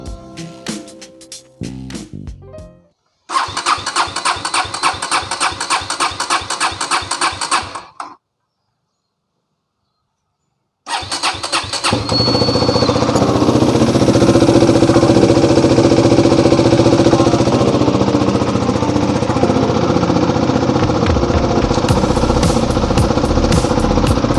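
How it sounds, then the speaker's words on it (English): A KTM Duke 250 motorcycle engine sputters and chugs rhythmically, cuts out into silence, then catches and settles into a steady loud running drone. "I don't know if the engine can still be fired up"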